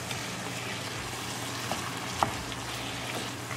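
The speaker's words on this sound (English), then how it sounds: "we're going to cook on high gas for 5 minutes" Ground bison keema with mushrooms and tadka frying on high heat in a pan, a steady low sizzle with a few soft clinks from stirring, no talking.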